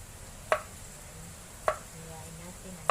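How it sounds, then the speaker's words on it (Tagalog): Three sharp knife strikes chop ginger on a board at a slow, uneven pace, each a crisp close thud. Low rain and background noise run steadily underneath, with no talking. "Hiwain natin ang luya."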